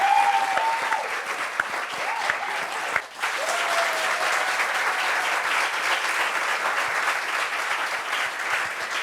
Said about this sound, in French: On applaudit pour elle, s'il vous plaît.